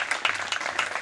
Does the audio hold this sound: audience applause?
yes